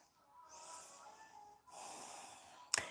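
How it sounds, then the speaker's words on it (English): A slow nasal inhale, then a longer exhale through the nose during a yoga pose, close and quiet, ending with a sharp brief snort. "Breathing through your nose."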